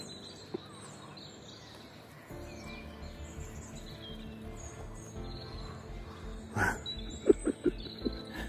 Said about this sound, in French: les oiseaux ont repris leur place là-bas, c'est bien.